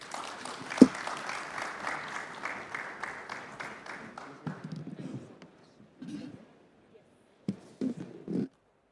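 Audience applause at a fintech festival, a crowd clapping steadily for several seconds and tapering off, followed by a few scattered claps and brief bursts.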